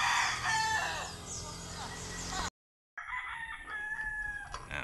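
Roosters crow loudly and close by on a farm where prized chickens are kept, with a long crow filling the first half, a brief silent gap, then further crowing and clucking after it.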